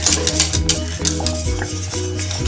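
A spoon scrapes and stirs a thick Brazilian truffle mixture of chocolate and condensed milk in a saucepan over the heat, giving steady close rhythmic scraping with a soft sizzle beneath and no talking.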